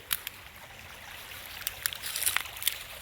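A creek on a flood plain flowing gently, a soft, steady trickle and babble with scattered small splashes and clicks, fairly faint and alone.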